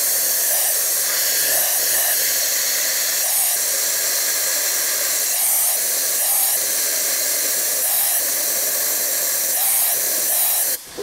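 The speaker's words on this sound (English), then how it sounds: "We're creating a vacuum by blowing air so fast there's turbulence inside" A venturi vacuum on a rhinestone machine gives a loud, steady rush of blowing air with a constant hiss that pulses slightly, close up.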